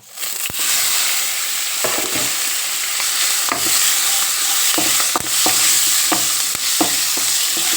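Green chillies sizzle and fry in hot oil in a pan while making a raw banana curry, a steady loud hiss with repeated stirring clinks and scrapes throughout.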